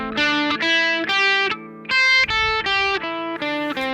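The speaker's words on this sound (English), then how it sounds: "the main signal of the electric amplifier, especially with the distortion, is really ugly" Electric guitar played through a cheap amplifier with heavy distortion, a run of sustained, buzzy chords and notes in steady strummed blocks with brief gaps, loud and close, no voices.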